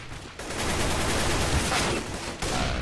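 Dense, rapid gunfire in a competitive team shooter video game match, loud and continuous with overlapping shots, briefly dropping out twice.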